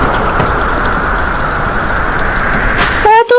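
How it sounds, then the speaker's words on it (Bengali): Heavy, dense rain in a Bengali cartoon, a loud steady downpour hiss filling the scene, cut off near the end by a brief tonal sound. "এত ঘন বৃষ্টির জন্য নদীর পানির স্তর অনেক গুণে বেড়ে যায়"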